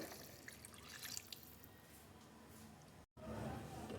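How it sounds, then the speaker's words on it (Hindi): Water poured from a glass into a cooking pot of beef achar gosht, a steady splashing, trickling pour close by that breaks off briefly near the end and then resumes. "दो गिलास आपने इसमें पानी ऐड कर देना है।"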